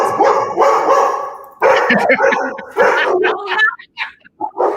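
Two dogs bark and yip in bursts through the whole stretch, loud and close, with a voice speaking over them.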